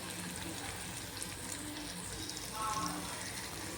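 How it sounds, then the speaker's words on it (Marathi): Steady crackling sizzle of masala frying in hot oil for a moth bean curry, continuous and close, with a slight rise in intensity near the end. "छान असा मसाला तेलात परतवून घ्यायचा"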